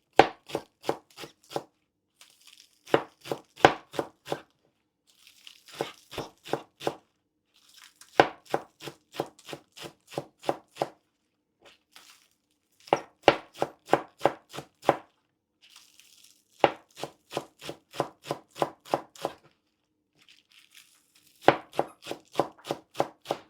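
Green onions being chopped on a cutting board, bursts of rapid, crisp knife strikes in quick rhythmic runs separated by short pauses, close and clear with no talking.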